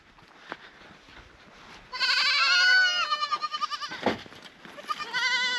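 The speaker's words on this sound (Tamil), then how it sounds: "நம்ம வர்றதை பார்த்துட்டு ஆட்டுக்குட்டியெல்லாம் கத்த ஆரம்பிச்சிருச்சு" Lambs at a herders' camp in the Rajasthan desert bleat loudly and close by in repeated wavering cries, several overlapping after a quiet start.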